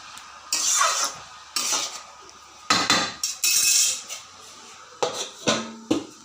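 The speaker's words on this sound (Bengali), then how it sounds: "একটু নাড়াচাড়া দিয়ে পরে ঢেকে নিব।" Metal spoon scraping and clattering against a pan while fish and bottle gourd curry is stirred, in irregular bursts of close, sharp clinks and scrapes with short pauses between.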